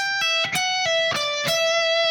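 A short electric guitar lick with distortion, a handful of picked minor pentatonic notes and a pull-off ringing out over sustained tone, played alone.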